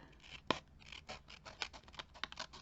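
Scissors snip through paper board for a miniature tin kit, a run of quick, close, dry cuts and scratchy rustles in a quiet room.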